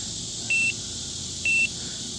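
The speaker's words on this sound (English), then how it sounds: "We're up 2 beeps from the base." A metal detector pinpointer gives two short electronic beeps about a second apart while its sensitivity setting is changed, each tone clear and close over a steady background hiss.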